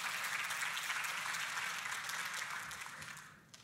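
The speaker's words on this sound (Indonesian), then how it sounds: "Boleh kita kasih tepuk tangan." A church congregation applauds during a sermon on gratitude, with steady, moderately loud clapping that fades out near the end.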